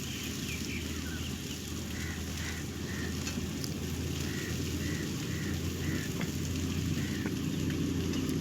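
Okra frying in a kadai over a stove, giving a steady, dense sizzle with a low rumbling hiss that holds evenly throughout, with no voices.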